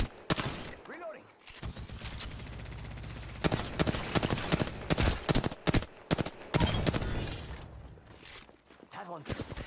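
Gunfire in a shooter game: repeated close bursts of shots crack loudly in clusters, separated by brief quieter gaps, with game voice lines spoken over the action.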